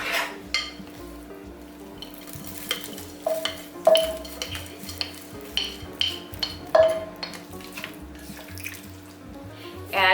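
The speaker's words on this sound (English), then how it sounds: "This is just a small bag of frozen vegetables going in." A small bag of frozen vegetables poured into a crock pot, rattling and clattering in uneven bursts against the pot, close and fairly loud.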